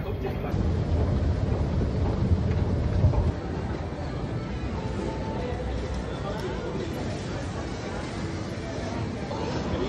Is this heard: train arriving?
yes